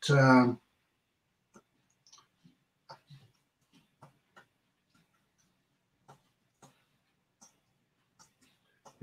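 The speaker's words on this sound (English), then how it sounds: "I'm just gonna type here in the chat." Keyboard typing for a chat message: a string of sparse, light clicks and taps spread over several seconds after a brief burst of speech at the start, quiet and close.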